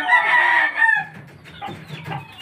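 Pure Gull gamefowl rooster crows loudly and close for about a second, then follows with softer scattered clucking and low murmuring calls.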